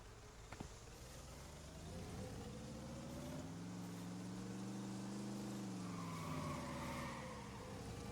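In the video game Truckful, a truck engine drones and rises steadily with a faint tire skid scuffing beneath it, a continuous mid-loud whine that sweeps up and then eases off, with no talk.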